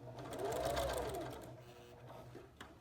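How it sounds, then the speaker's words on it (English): A sewing machine sews quilt binding with a close, fast, even run of stitches that slows and fades toward the end, then stops, leaving a faint click. "I sew this on at a 1/4 inch."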